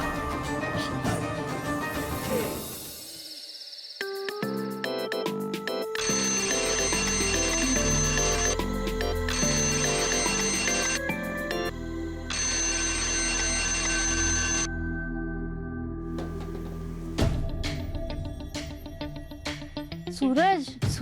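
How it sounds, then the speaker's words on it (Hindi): An alarm clock set for four o'clock rings in repeated loud bursts over several seconds, with other background sound and voices around it. "तुमने ही 4 बजे का अलार्म लगाया था ना?"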